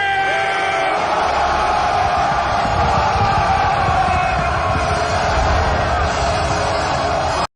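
Loud, sustained yelling and cheering from a large crowd at a school pep rally, a dense roar of shouting voices and whoops holding steady before cutting off abruptly.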